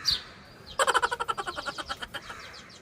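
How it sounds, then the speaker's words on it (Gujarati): A bird call, then a rapid run of about a dozen rhythmic chirping calls that slow and fade, close and clear, as a crow and a sparrow call back and forth. "કાગડો અને ચકલી સામ સામે વાત કરે છે પણ સાંભળવાની મજા આવે છે ચકલી બોલે પછી કાગડો બોલે"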